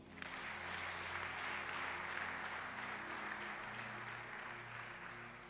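Church worshippers clap and cheer for Jesus during a Sunday service, a continuous wash of applause carrying on for several seconds over a soft sustained keyboard tone.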